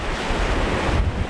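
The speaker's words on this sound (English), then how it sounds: "And the sea just sounds great" Sea waves breaking on a rocky shore at high tide on a windy day at Kildonan, Isle of Arran, a loud continuous rush of surf mixed with wind buffeting the microphone.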